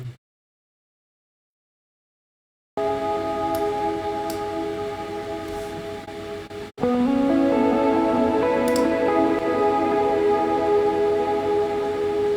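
A clean electric guitar theme plays through a large Soundtoys effects chain, giving sustained, ringing layered notes with faint ticks. The notes start after a stretch of silence and swell louder partway through.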